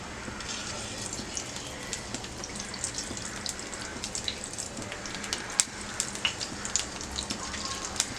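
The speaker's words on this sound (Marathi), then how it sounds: "1 चमचा तेल घेतलेला आहे, त्यात आता अंडी फ्राय करून घेऊया" Eggs fry in a spoonful of hot oil in a pan over medium to high heat, a faint, steady crackle with scattered sharp pops and spits.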